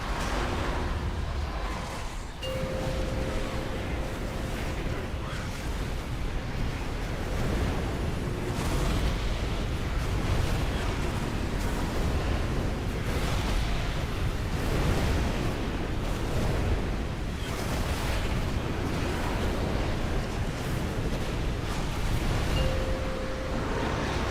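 A World of Warcraft boss ability sends waves crashing in a raid fight, a dense, loud, continuous surf-like roar with repeated surging swells and no pauses throughout.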